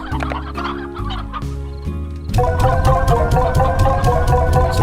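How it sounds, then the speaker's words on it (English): Dense, overlapping clucking from many chickens in the video game Slime Rancher, loud and continuous, with a busy electronic backdrop that grows louder partway through. "Why are there so many chickens?"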